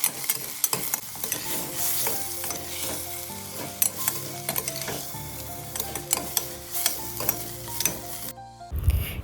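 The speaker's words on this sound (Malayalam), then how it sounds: "ബാക്കി എല്ലാ ഐറ്റംസും അതിലേക്ക് ചേർത്ത് വഴറ്റിയെടുക്കാം." Ingredients for a ghee mutton curry are sautéed with salt in a pan, giving a loud, continuous sizzle with busy stirring clatter and utensil knocks throughout, ending in a sharp clunk.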